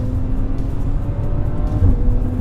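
Deep, loud engine roar from a 2017 Maserati Levante S petrol SUV, a sustained throaty drone with a steady low rumble and rising hum, close and continuous with no talking.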